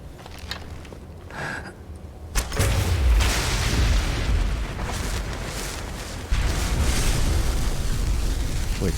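A booming fire explosion in the game Skyrim bursts out loud after a quieter opening, followed by sustained rumbling roar and a second surge of blast noise near the end.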